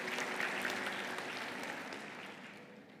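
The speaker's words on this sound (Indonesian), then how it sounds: "Kasih tepuk tangan bagi Tuhan kita." Steady applause from a church congregation, a dense wash of clapping that stays loud throughout and slowly tapers toward the end.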